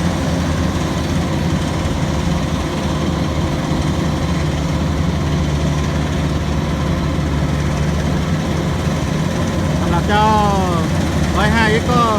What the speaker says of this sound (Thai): เครื่องยนต์ร้อยห้าแรงม้า ปากเกี่ยวที่2เมตร76เซน